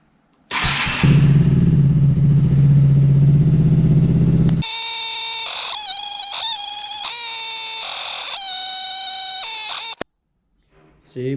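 A 2018 KTM Duke 125 motorcycle engine starts and idles nearby for about four seconds with a loud, steady rumble, then gives way to a louder, tonal, warbling sound that stops abruptly.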